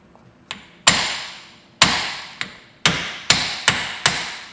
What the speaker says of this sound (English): you can just hit these with a hammer quite hard and they should come clean off.